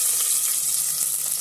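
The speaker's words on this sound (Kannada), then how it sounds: "ಹಾಕ್ಕೊಂಡು ಬ್ರೌನ್ ಕಲರ್ ಬರೋ ತನಕ ಫ್ರೈ ಮಾಡ್ಕೊಳ್ಳಿ." Chopped onions fry in a pan for a biryani, a steady bright sizzle and crackle of oil running evenly and close up with no talking.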